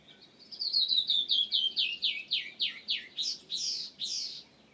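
A bird call rolls downward in a quick series of descending notes, then ends in a breathy hiss, loud and close.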